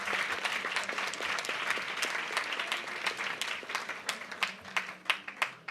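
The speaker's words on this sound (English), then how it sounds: "And the audience will applaud that end." An audience applauds at the close of a panel discussion on financing the elimination of female genital mutilation, a steady, fairly distant wash of clapping that thins into a few scattered, sharper claps at the end.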